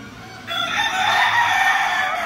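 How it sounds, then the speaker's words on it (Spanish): A Puerto Rican gamecock rooster crows one loud, sustained call up close, with no talking. "Samuel Cardón, ese fue el gallo boricua que nosotros encatamos, que Samuel Cardona trajo"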